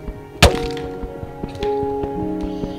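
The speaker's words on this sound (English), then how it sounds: "I'm destroying the block" A single sharp thunk of a block being broken in the video game Minecraft, loud and close, followed by faint game tones and low background sounds.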